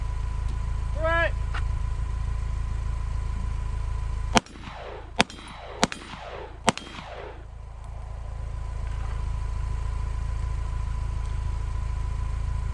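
Four sharp gunshots from a firearm with a weapon-mounted light in low light, fired about a second apart, loud and close over a steady background hum.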